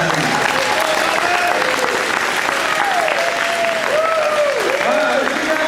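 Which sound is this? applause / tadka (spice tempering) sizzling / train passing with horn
applause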